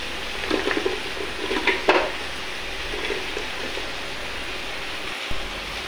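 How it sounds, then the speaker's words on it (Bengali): Small shrimp sautéing with spices in a pan, a soft continuous sizzle with occasional spoon scrapes and stirring clatter close by. "এখানে ছোট চিংড়ি নিয়েছি, নিয়ে এগুলা কষিয়ে নিলাম মশলাগুলো।"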